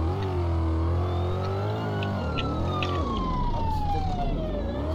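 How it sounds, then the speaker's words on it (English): Emergency siren from an ambulance in a Roblox game wails loud and continuous, sweeping up and down over the hum of a revving vehicle engine. "I'm being chased by an ambulance, sir."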